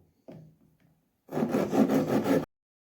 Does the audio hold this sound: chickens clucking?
no